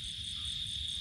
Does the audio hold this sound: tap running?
no